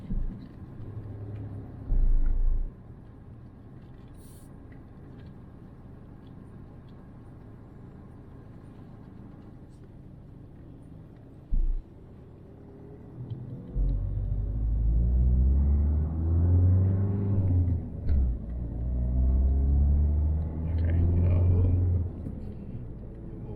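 Road traffic rumbles past, with a couple of short bursts early and then a long, heavy, building roar of passing vehicles in the second half, loud and near with no talking.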